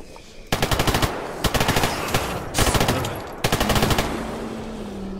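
Loud, close bursts of rapid automatic gunfire in the game Stalker GAMMA, three or four sustained volleys separated by brief gaps, with no voices over the shooting.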